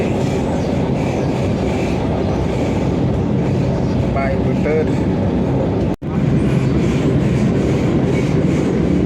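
Vande Bharat express train running between Secunderabad and Tirupati, a steady loud rumble of the cars on the rails, constant throughout, with a brief dropout near the middle and a voice talking over it.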